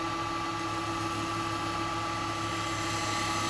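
A wood lathe turning very wet wood, cut with a carbide tool or spindle gouge, gives a steady, continuous whirring drone with a broad hiss, holding at an even level throughout with no pauses.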